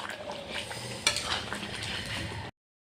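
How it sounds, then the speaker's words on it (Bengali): Aloo dum with shahi garam masala being stirred in a pot, soft metallic spoon scrapes and clinks over a faint background sizzle, fairly quiet, ending abruptly in silence. "শাহি গরম মশলা অ্যাড করেছি। এটা একটু ভালো করে নাড়াচাড়া করব"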